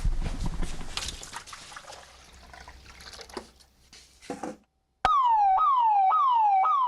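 Simulated flood triggers a warning siren from a flood detector built from fishing-boat water sensors and ambulance sirens and lights; after trickling water and noise, a loud wailing siren sweeps up and down repeatedly, alone and close.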